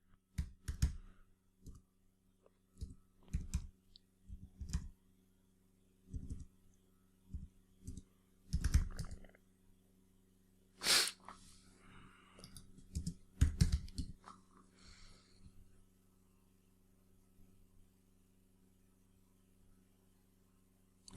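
Typing on a computer keyboard: bursts of light, quick key clicks in irregular clusters, close and fairly quiet, with pauses between runs and a longer stretch of faint, sparse taps toward the end.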